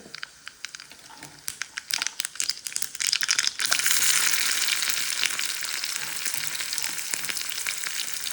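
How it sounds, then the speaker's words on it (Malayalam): Mustard seeds frying in hot oil for paddu (paniyaram), giving a sharp sizzle with dense popping and crackling that swells after the first few seconds into a steady loud hiss, with no voices. "കടുക് വറുക്കൽ ഫോർ പദ്ദു, ഫോർ പണിയാരം."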